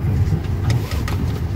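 A patrol car's engine hums low and steady from inside the moving vehicle, with faint rattles and small surges, close and fairly loud, and no voices are heard.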